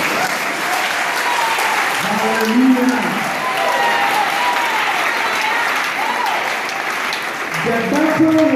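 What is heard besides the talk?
congregation applause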